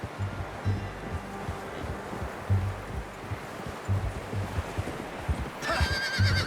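A horse in Red Dead Redemption 2 clip-clops steadily at close range, hooves thudding in a regular rhythm over rustling ground, and near the end lets out a loud, shrill whinny.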